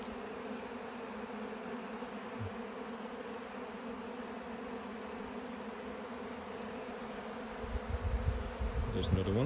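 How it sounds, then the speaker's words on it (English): Honey bees from different hives buzzing steadily around a hive area, a continuous close hum with a louder rustling burst near the end. "So those bees, they're probably from different hives."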